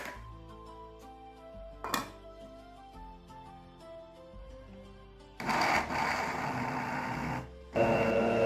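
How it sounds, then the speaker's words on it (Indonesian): Kitchen blender pureeing cut banana pieces for a school cooking practical, a loud steady whirring roar that starts midway over background music, briefly cuts out, then resumes close and strong. "pisang-pisang ini akan kita lumatkan dengan cara kita blender"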